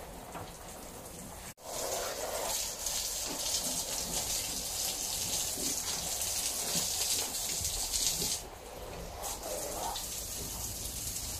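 Water splashes and hisses steadily as it is poured for cattle and a calf, a continuous wash of spray that cuts out briefly and then resumes.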